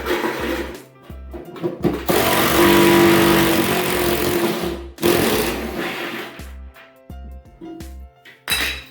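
A power screwdriver drives a new screw into a Samsung washing machine spider arm: whirring motor bursts of a few seconds each, close and loud, then several short stop-start pulses as the screw seats.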